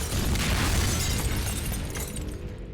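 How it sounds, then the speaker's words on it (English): A flashbang detonates as an Easter egg in the video game Momentum Mod, a loud, dense burst of crackling, ringing noise that fills the moment and slowly fades. "Prepare yourself for a flashbang."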